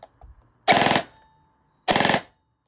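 An FN SCAR airsoft rifle fires two short full-auto bursts, each lasting about a third of a second, sharp and close, separated by near silence. There is no audible motor whine.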